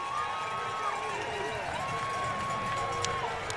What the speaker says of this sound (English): Pretty good ovation for the home crowd.